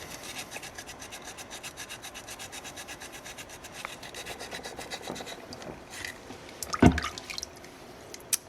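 Soapstone being carved with a hand tool to cut a narrow groove, a steady rhythmic rasping scrape close by, with a brief louder knock near the end.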